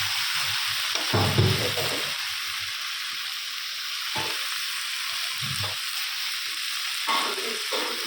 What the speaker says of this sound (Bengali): মোচার ঘন্ট চিংড়ি মাছ দিয়ে আমি ঘি দিচ্ছি।